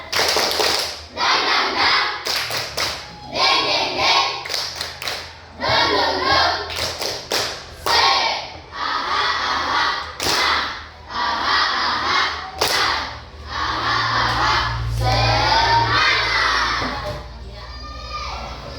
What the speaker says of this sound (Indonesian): Sekarang tepuk semangat dulu. Tepuk semangat.